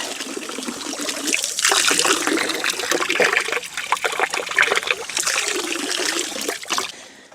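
Water trickles and splashes close by as someone washes and drinks outdoors on a cold day, with an uneven, gurgling flow that rises and falls throughout.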